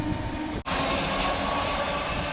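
A train at a station platform rumbles loudly and steadily with a broad roar that cuts out for an instant, then resumes, close by and continuous.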